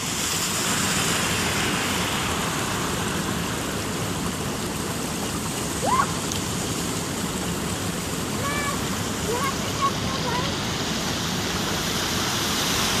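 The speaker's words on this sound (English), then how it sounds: "Water pouring from everywhere. There's a water main break up the road." Water gushing steadily from a broken water main in a street in Irvington, a loud, constant broadband rush close by, with brief faint voices in the background.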